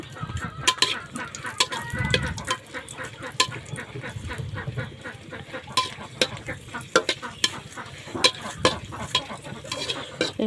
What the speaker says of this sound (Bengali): এখন এই যে কয়েকটা শুকনো মরিচ ভেজে নেব